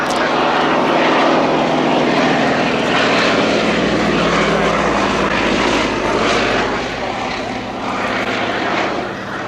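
A 1930s Fairey Swordfish Mk.1 biplane flies past at the Yeovilton Air Day. Its piston engine and propeller give a loud, sustained drone that stays steady and full for the whole pass, with no talking heard.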